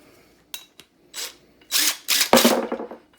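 An impact wrench loosens a motor mount bolt on a Scion xB, with a few short taps and then a loud close burst of rattling hammering lasting over a second, alone.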